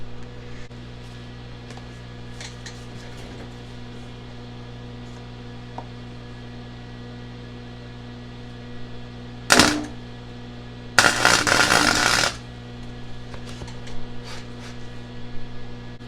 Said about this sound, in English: I'm actually just going to put one little bitty spot weld there, and hope I don't F anything up too bad by doing that